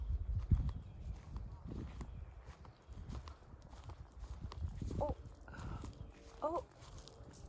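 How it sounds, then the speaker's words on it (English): Several cows, about six, walk past on a farm track near shallow water, their hooves clopping irregularly at close range beneath steady outdoor noise, with people talking throughout. "that's a cow. I guess there's like 6 of them."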